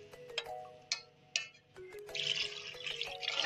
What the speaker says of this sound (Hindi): इसमें 1 गिलास पानी मैंने और डाला है।